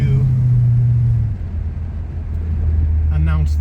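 A 1970 Cadillac Eldorado with its 8.2 liter engine rumbles through a loud, deep exhaust, steady at first, easing briefly, then swelling again close by, with a voice speaking over it near the end.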